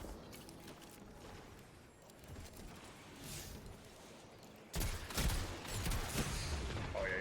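Gunfire in the Destiny video game during a Strand Hunter build match: quiet, scattered shots at first, then a louder burst of rapid shots and impacts near the end.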